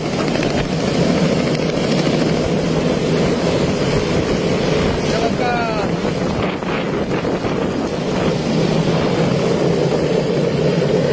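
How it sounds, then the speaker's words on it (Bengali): A helicopter lifts off from a school field in wind and rain, a dense, loud, steady rotor roar heavily buffeted by wind noise on the microphone throughout. "এইবার উঠে পড়েছে হেলিকপ্টার উত্তরার উদ্দেশ্যে"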